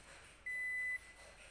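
A single clean electronic beep from pressing the keep-warm button on a Japanese rice cooker, steady and about half a second long, close but faint over quiet room tone.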